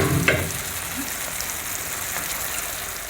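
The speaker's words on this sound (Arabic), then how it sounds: "دابا الطاجين تاعنا انا هو تيتشحر." Kofta seasoned with onion, paprika, cumin, spices and salt sizzling in a hot tagine, a steady close frying crackle with one brief clatter near the start and no talk.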